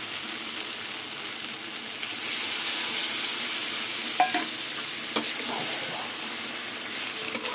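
Water poured onto frying spices in a pan while cooking pumpkin greens with shrimp and jackfruit seeds sizzles and hisses continuously, with a few sharp clinks of stirring near the end.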